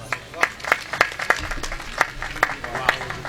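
An audience at a Hindi poetry recital (kavi sammelan) in Sandalpur, Dewas, claps: a steady run of sharp, close hand claps with voices mixed in.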